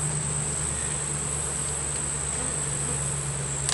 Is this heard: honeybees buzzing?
yes